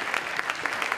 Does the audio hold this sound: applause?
yes